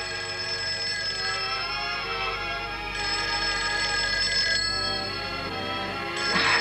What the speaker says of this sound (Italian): Questo è il telefono, però.